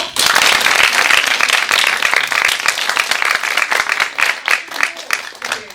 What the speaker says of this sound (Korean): 같이 함께 해주신 오늘 아모르 전담들 큰 박수 주세요.